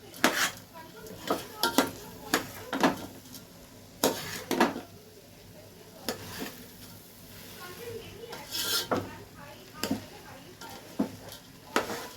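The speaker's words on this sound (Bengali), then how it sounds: "এবারে চালের সাথে এটাকে ভালো করে মিশিয়ে দিতে হবে" A paneer mixture is being stirred into rice in a pot for shahi paneer pulao. A spoon scrapes and knocks against the metal in irregular bursts over a faint sizzle, close and clear.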